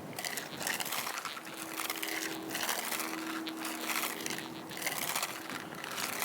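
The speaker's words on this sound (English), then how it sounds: "You can hear the thresholds in the background there just bubbling away." Metal detector threshold tone while detecting at a lost town site, a faint steady low hum wavering underneath louder crunching and scraping sounds.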